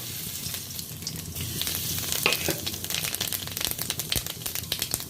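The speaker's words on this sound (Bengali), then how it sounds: "এই যে আমি তেল দিয়ে দিলাম গোটা জিরেটা দিয়ে দিলাম" Whole cumin seeds frying in hot oil, a close continuous sizzle with dense crackling pops that grow busier as it goes on, and no voices.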